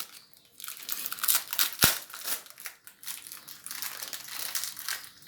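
Plastic wrapping torn open from a chilled mosaic cake, giving close, uneven crinkling, crumpling and tearing bursts throughout, with one sharp snap partway through.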